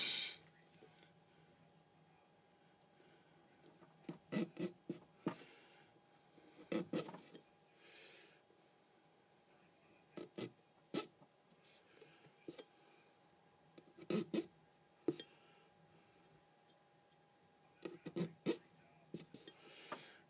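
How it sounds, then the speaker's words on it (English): A knife stabbing into a pumpkin, heard as several short clusters of sharp crunching stabs separated by quiet pauses, fairly faint and close. "The knife makes a funny noise when I stab the pumpkin."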